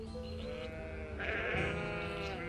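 A sheep bleats in the fantasy game Gothic 2, a wavering nasal bleat, then a second louder one, heard close over a soft ambient background.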